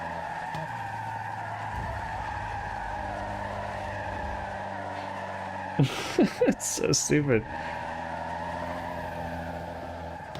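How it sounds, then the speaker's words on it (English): Tires screech in short, sharp bursts as a car drifts on a mountain touge road in Forza Horizon 6, with a steady engine drone underneath and someone talking over it. "prepare yourselves for the tire screech of doom"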